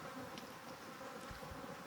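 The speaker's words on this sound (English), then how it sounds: "There's a bunch of bees putting pollen and nectar in there, chewing it up, spitting it in there" Honeybees in a hive built inside a water meter box, packing pollen and nectar, give a close, steady buzzing hum that runs without a break.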